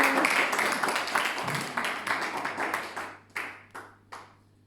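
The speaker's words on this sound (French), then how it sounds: "Acclame un peu, acclame un peu." A church congregation breaks into applause at a sermon, a dense roar of clapping that fades into a few scattered, separate claps at the end.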